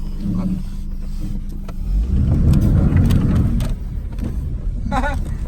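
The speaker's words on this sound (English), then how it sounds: "do a little burnout for a little last celebration here" A Hyundai Elantra revs hard into a burnout, engine roar and tyre noise swelling loudly midway and holding for a couple of seconds before easing, with a brief voice near the end.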